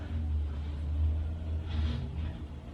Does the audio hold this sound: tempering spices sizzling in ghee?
no